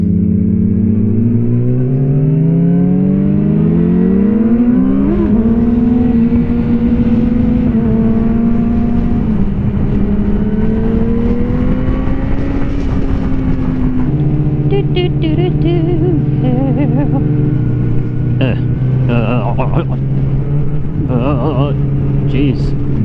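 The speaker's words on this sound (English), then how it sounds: "He really hammers on the gas when he's going." A truck accelerates hard, its engine climbing through rising revs with gear changes, loud and close from inside the cab, while people talk over the drone.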